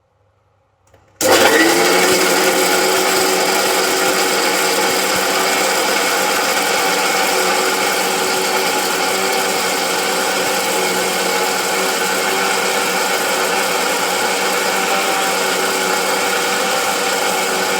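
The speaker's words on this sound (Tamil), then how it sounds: "நல்லா புளியும் மிளகாவத்தல் நல்லா அரைக்கணும்." A mixer grinder starts up with a brief click and then runs steadily at high speed, grinding soaked tamarind, dried red chillies and brinjal for thuvaiyal, a loud continuous whine that stays even to the end.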